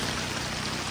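Heavy rain pours down steadily in a loud, dense wash of drops beating on surfaces, with no voices present, during a strong windy downpour in a Philippine village.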